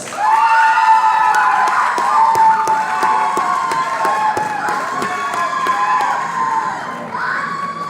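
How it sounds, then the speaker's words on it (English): An excited audience at a 2022 corporate event claps, cheers and whoops loudly and continuously, with shouting voices layered over a steady wash of clapping. "You will give big round of applause."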